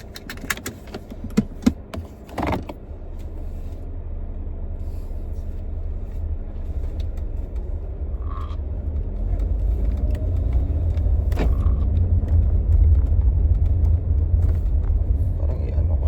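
A car is driven with a steady low road rumble that grows heavier partway through, after a few sharp clicks and rattles near the start.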